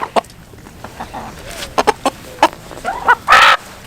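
Chickens cluck and a rooster calls in scattered short bursts around a farmyard, with soft background rustle between the calls and a louder squawk near the end.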